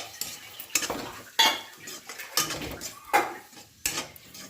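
Beaten egg goes into a hot pan and is stirred, with repeated utensil scrapes and clinks against the metal at an irregular rhythm, close and fairly loud over a soft background.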